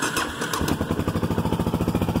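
Motorcycle engine firing up after a brief quiet start, then settling into a steady, rhythmic running idle, close and fairly loud.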